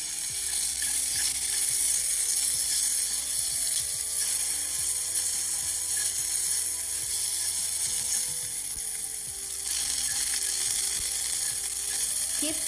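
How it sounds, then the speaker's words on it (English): Beef fat rendering over high heat in a pan with a little oil, giving a loud, continuous, close sizzle and crackle that barely lets up. "now I render the beef fat so that we can stir fry the beef"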